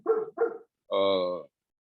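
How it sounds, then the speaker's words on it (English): A dog gives two quick barks followed by a longer drawn-out bark or howl, close and fairly loud, with no talk over it. "So this dog is barking."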